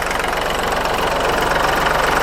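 The diesel engine of a used Kubota walking tractor runs steadily up close, a loud, continuous rhythmic knocking chug at a constant idle with no talk over it.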